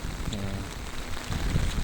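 Rain falls at a Maldives island resort pool, a steady wash of drops with some wind rumble and a few louder splashes near the end, no voices.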